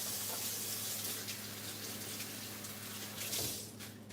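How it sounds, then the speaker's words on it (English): Tap water runs steadily into a kitchen sink for hand washing during a cooking session, a close, even hiss throughout with a brief clatter near the end. "Then I'm going to wash my hands."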